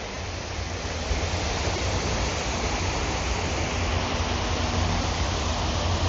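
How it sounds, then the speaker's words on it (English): A small garden waterfall pours into a pond in a Manhattan park at sunset, making a steady, broad splashing wash close by with no pauses. "Oh, look at this little pond with waterfall."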